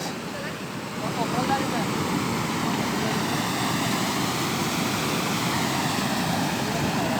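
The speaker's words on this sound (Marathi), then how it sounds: "आपण ऐकतोय धबधब्याचा ओरिजिनल आवाज" Water from the Sherpe-Napne falls in Vaibhavwadi, Sindhudurg, tumbles over natural rock with a continuous dense hiss and roar, holding a constant loudness throughout.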